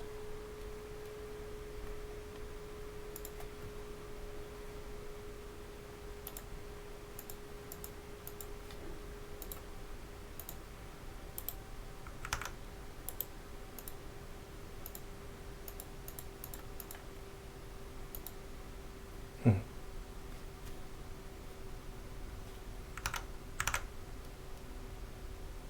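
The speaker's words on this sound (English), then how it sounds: "Let's do a typing test here." Sparse, intermittent keystrokes on a keyboard with BOX Crystal linear switches, scattered light clicks with pauses between them, over a quiet room with a steady low hum and one sharper knock partway through.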